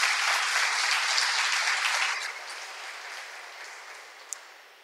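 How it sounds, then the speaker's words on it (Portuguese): Congregation applauding the name of Jesus during a Portuguese-language evangelical preaching service: dense, sustained clapping that holds strong for about two seconds, then thins and fades gradually, with a single sharp clap near the end. "Você pode dar um aplauso ao nome de Jesus"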